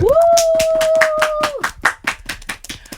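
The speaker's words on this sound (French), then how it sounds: "Théo, applaudissez." An audience at a French creative-production talk show claps in steady, separate beats, with a loud sustained tone over the opening stretch and a few voices mixed in.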